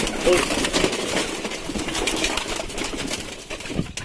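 Pigeons coo in the background amid a busy, noisy space, with a brief flutter of wings and a voice speaking over it.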